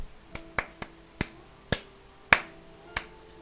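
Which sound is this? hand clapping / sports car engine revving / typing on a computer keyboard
hand clapping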